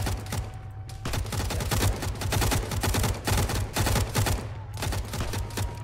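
Sustained automatic gunfire in Arma 3 on a Western Sahara map, dense overlapping bursts from several weapons, loud and near, rattling almost without pause over a steady low hum.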